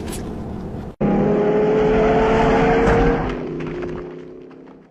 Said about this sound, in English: And the car tumbles and explodes.